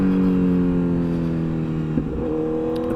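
Custom Honda CBR1000RR motorcycle engine running steadily and loud at close range with a smooth, sustained tone, then a quick throttle blip that briefly lifts the pitch before it settles again; no talking.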